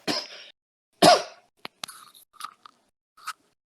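A man coughs in a few sharp, close bursts, followed by smaller throat sounds and short coughs trailing off, with no other sound between them.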